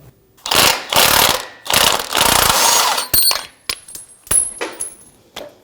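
An exhaust manifold bolt being loosened on a 1997-2006 Jeep Wrangler 2.4L four-cylinder, several bursts of ratchet or impact-tool rattling followed by sharp metallic clicks and clinks, close and loud.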